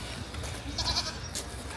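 A goat in Kerala, India gives a faint, short bleat amid low outdoor background noise, heard from a modest distance.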